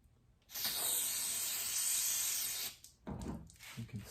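Brake cleaner sprays in a steady hissing jet into the door lock of a 1995 Nissan D21 pickup for about two seconds, followed by a few short clicks and knocks from the door.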